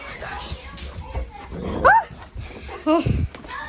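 Dog yelps and whimpers in a short burst of rising cries partway through, followed by another brief whine, mixed in with excited children talking and shouting during a game of tag indoors.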